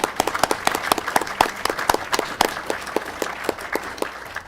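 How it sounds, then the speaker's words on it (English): Applause from a small group in a county board of commissioners meeting honoring a youth softball team, distinct individual claps in an uneven rhythm, moderately close, with no talking. "How about giving these young ladies a big round of applause?"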